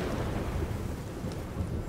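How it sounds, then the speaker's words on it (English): A thunderstorm in the video game Horizon Forbidden West: low rumbling thunder with steady rain and wind, a dense continuous wash of noise with no voices. "Storm is coming, babes."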